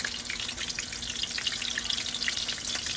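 Homemade meatballs crisping in a hot pan give a steady, close sizzle, with soft scrapes and taps as they are turned one by one.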